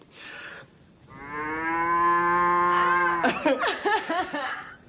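A person imitates a cow, holding a long, steady, nasal moo that swells to full loudness, then breaks into short, lively vocal bursts near the end.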